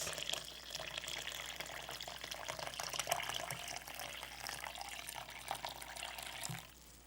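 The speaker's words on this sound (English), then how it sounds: "So I'm going to put about 2 cups of hot water in here." Hot, just-boiled water poured into a container, about two cups' worth, a steady broadband rush of liquid with splashing that runs continuously and fairly close before easing off near the end.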